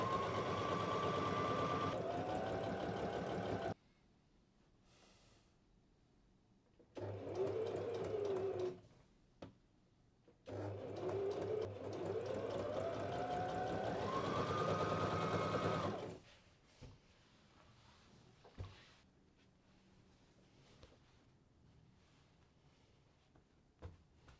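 A sewing machine stitches the double-turned neckline of a kimono wrap top, running in several steady bursts of rapid whirring with pauses and quiet handling between them.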